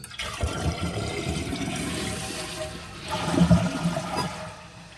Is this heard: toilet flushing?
yes